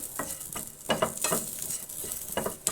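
Shallots and garlic frying in a hot pan for a home-style sambar, with a steady bright sizzle broken by several short stirring scrapes at close range, and no talk.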